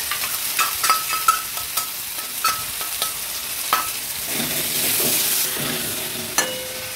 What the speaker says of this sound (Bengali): জল দিয়ে মশলাটা কষতে দেবো।